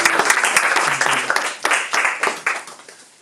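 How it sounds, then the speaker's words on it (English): Audience applause welcoming a guest speaker at a Krishna Katha gathering at Bhakti Gardens, a dense patter of clapping that thins and fades over a few seconds, with faint voices mixed in. "let's give him a warm welcome and big round of applause"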